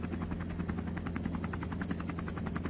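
A police helicopter sits ready for takeoff, its rotor producing a steady, fast rhythmic chop over a low engine hum that stays loud and close the whole time, with no talking.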